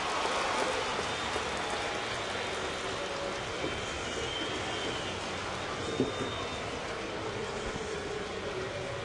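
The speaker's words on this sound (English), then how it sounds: "Starting to rain here at the stadium. A little bit of a drizzle." A light drizzle falls over a baseball stadium, a soft even wash of rain noise that holds steady throughout with no voices and only one small knock.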